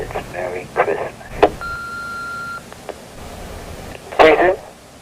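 A telephone tone sounds for about a second during a recorded threatening phone call aired in a TV news report, framed by brief bursts of voices and clicks.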